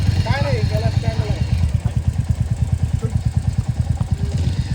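A motorcycle engine idles with a steady, rapid low thump close by, while people talk over it at the start.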